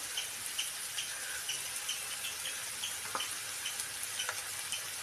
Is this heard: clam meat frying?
yes